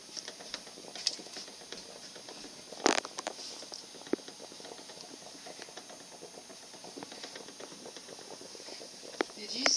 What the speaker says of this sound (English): Drop it right into the boiling water like that.